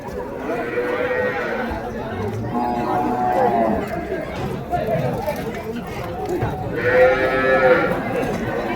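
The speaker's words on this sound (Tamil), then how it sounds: "ஸோ நாட்டு மாடுங்க, பசு மாடு." Native cows and calves low and moo at a busy cattle market in Vaniyambadi, with two clear calls over a constant crowd chatter and nearby talking.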